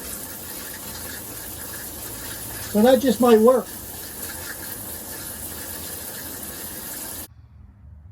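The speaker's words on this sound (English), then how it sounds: "So this shower head has a lot more pressure now." A shower head in an RV runs at higher pressure, a steady hiss of spraying water throughout that cuts off abruptly near the end, with a short spoken phrase over it midway.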